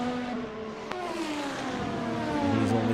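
A race car in a racing video game pulls away from its final pit stop at Suzuka, engine note rising and shifting pitch over a few seconds, with steady engine drone throughout and no voices.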